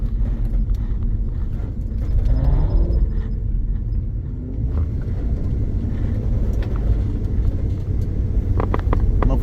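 A Pontiac LeMans with a hot 350 engine bogging and laying over during a run, a loud rumbling exhaust that sags in the middle and then picks back up, with no talking.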